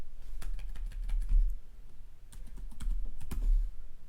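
Keystrokes on a computer keyboard in a quiet room, a quick run of soft clicks in short bursts with a brief pause between them.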